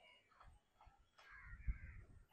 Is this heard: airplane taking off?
no